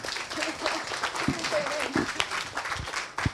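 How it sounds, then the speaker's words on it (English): An audience at a tech lightning-talk event applauds to welcome a speaker, with a lighter scatter of clapping, a few sharper individual claps and a cheer mixed with voices, at moderate loudness. "give her a round of applause, please"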